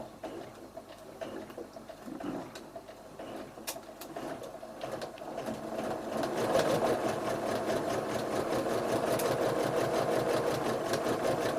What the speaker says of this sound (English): you're gonna start stitching a couple of stitch lengths away from the line